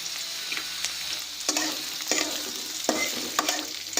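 Chopped onion sizzling in hot oil in a pan while being stirred for a Bengali prawn bharta, with a steady fry hiss broken by repeated scraping strokes of a spoon against the pan.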